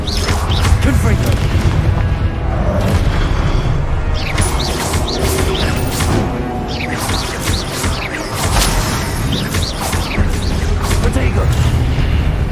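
Confringo fire spells blast repeatedly during Hogwarts Legacy combat, a dense loud stream of booming explosions and crashing impacts layered with game music and effects throughout.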